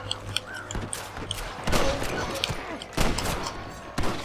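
Gunfire rings out in the western video game Red Dead Redemption: a series of sharp, loud shots at irregular intervals over a busy game soundscape.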